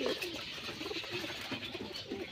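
A pigeon coos softly and steadily, low rounded calls repeating at a slow rhythm against a faint background hiss.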